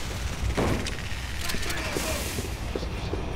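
Gunfire in Resident Evil 6 sounds as a steady rumble of mixed shots and mechanical clanks, moderately loud and continuous, with game noise and some voices in the mix.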